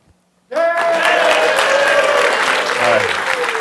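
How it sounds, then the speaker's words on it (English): After a brief near-silent moment, loud applause erupts from an audience at a tech conference talk and holds steady, with cheering voices mixed into the clapping. "for applause, we're going to be quiet, and we're going to be really loud"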